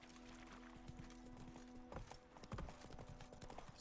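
A horse gallops in The Witcher 3, with rapid rhythmic hoofbeats over a steady game background hum, fairly quiet and continuous, with no talking.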